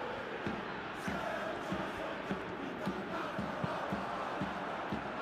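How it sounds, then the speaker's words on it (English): A stadium crowd in the football game PES 2021, a Ligue 1 match between PSG and Lille, roars steadily, with muffled thumps and bursts of cheering rising out of the continuous noise. "Well, the crowd clearly like what they just saw."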